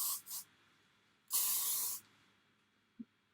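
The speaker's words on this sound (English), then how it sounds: "put some hairspray on" Short hissing bursts of hairspray from an aerosol can: two quick puffs, then one longer spray lasting under a second, close and clear, ending with a faint click.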